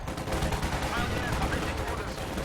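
Dense, continuous automatic gunfire rattles nonstop in a Company of Heroes 2 match, where two Panzer Grenadier squads are cutting down combat engineers.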